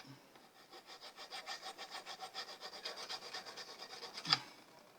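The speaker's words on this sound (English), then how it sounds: "It's not cutting very easily. It's resisting a file." A metal file rasps back and forth across a bone guitar nut, about a dozen even, rhythmic strokes close by, followed by a brief sharp knock near the end.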